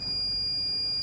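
A multimeter in continuity mode gives a steady, continuous high-pitched beep while probing a laptop motherboard during an Acer 4738 repair, lasting about a second over a faint background hum.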